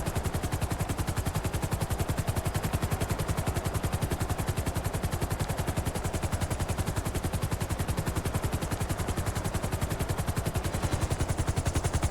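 Civilian helicopter in GTA V (FiveM) flying, its rotor beating in a fast, even, loud chop that runs unbroken throughout, with no talking.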